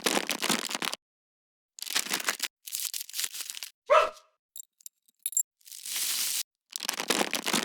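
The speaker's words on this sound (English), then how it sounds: "I like this paper bag one" A paper bag is crumpled in several separate crinkly bursts, close and crisp, with moments of silence between them.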